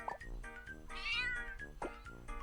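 Cat meowing in the mobile puzzle game Block Cat Jam: a single drawn-out, faint synthetic meow with a rising whine in the middle, looping over quiet game sound, no talk.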